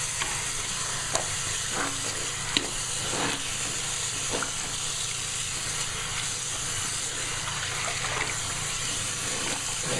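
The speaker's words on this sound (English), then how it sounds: "Let that drain out so you guys can see." Water drains steadily out of a sink, a continuous close hiss and gurgle that runs unbroken with a few small clinks and splashes and no talking.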